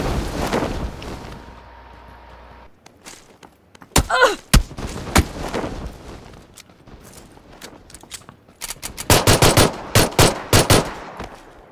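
Gunfire in the battle royale game PUBG: sparse single shots and short bursts early, then dense rapid automatic fire clustered toward the end, loud and sharp over a low background rumble.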